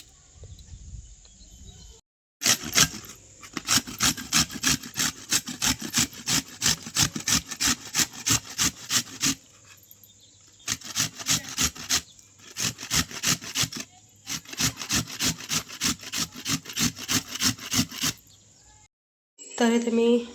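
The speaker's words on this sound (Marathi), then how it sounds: "खिसण्यानं खिसून घ्यायचा मुळा." Radish being grated by hand on a grater, loud rapid rasping strokes in several long bursts separated by short pauses, with someone speaking briefly at the start and end.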